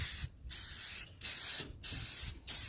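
Black spray paint hisses in four short bursts onto the mesh of a custom mascot head, each spurt lasting under a second with brief pauses between, close and fairly loud.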